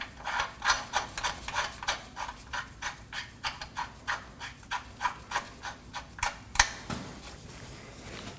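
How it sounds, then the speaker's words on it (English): A nut is hand threaded onto a control arm bolt of a Toyota Corolla, giving a regular series of soft scraping, rubbing strokes, close and fairly faint, repeating steadily for several seconds with one sharper click near the end. "Now hand thread on the nut"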